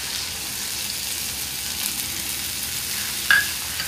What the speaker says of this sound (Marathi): आता आपण ही मुगाची डाळ घालूया।